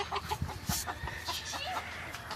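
A chicken perched up in a tree clucks in short, repeated bursts with a few higher squawks, fairly close and alone, with no talking over it.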